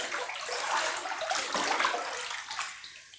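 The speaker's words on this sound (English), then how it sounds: "I love that sound too, when you start breaking up the foam" A hand swishing and breaking up foam in bath water, a soft continuous watery splashing and churning at close range that tapers off near the end.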